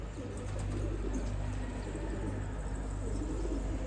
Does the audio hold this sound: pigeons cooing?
yes